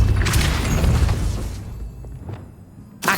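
A Depulso force-push spell cast in Hogwarts Legacy, a burst of whooshing, rumbling impact noise that fades into a quieter tail before a short final thump.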